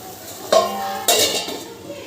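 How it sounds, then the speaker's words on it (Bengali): A metal lid is set onto a pot of mutton biryani with potatoes simmering in mutton stock over a medium gas flame, giving two clanking clinks about half a second apart with a short ringing tail, close and alone. "আমি এটা একটু ঢাকনা দিয়ে ঢেকে দেবো"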